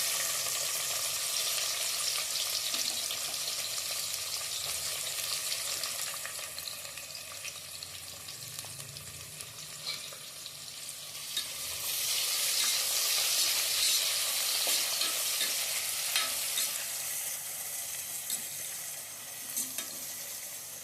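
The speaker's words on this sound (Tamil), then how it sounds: "இப்போ வெங்காயம் போட்டுக்கிறேன்." Onions sizzle steadily in hot oil with a constant crackling hiss, stirred now and then, swelling louder for the last stretch, while making vegetable biryani.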